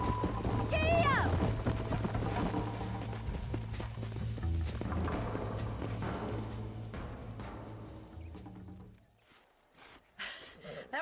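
Rapid clip-clop of a horse's hooves galloping in a Western video game, loud and continuous under a game score, with a brief whinny early on and speech mixed in before it fades out near the end.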